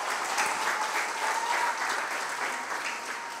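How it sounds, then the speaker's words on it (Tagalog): A church congregation clapping loudly and steadily, dense applause filling the space for a few seconds with a faint voice underneath. "Yung naniniwala, pumalakpak ng napakalakas."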